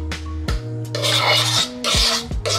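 A small spoon scraping banana and oat cake batter from a bowl, with repeated close, gritty scrapes and light clinks against the dish and no voices.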